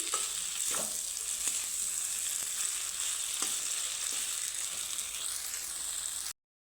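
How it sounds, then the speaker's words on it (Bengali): Green beans and boiled potato frying in a pan, a steady sizzle running throughout with a few soft stirring scrapes now and then, close and alone without any talk. "সুন্দরভাবে আমি নাড়িয়ে চেড়ে নিয়েছি সিমটাকে"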